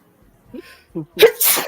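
A single loud sneeze with a sharp, bursting release, preceded by a couple of short breathy intakes.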